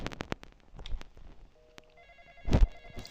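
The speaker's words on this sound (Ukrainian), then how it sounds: "Хтось дзвонить." A ringing telephone tone in a video game sounds near the end, a bright electronic ring over faint clicks and footsteps, fairly loud and close.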